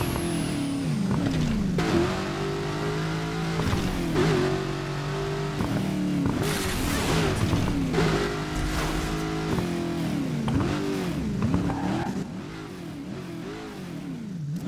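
Cars race through the city in Burnout Paradise, engines revving and whining as they rise and fall with gear changes, with tire squeals and skids breaking in now and then. The driving stays loud and close throughout.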